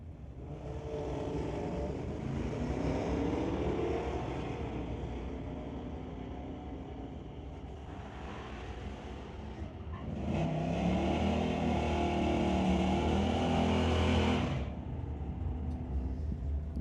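A 1929 Model A and a 1973 Ford Maverick drag race at a street-legal night at Mission Raceway Park, with engines roaring and revving through rising and falling gear changes, then a louder second surge, all heard from trackside.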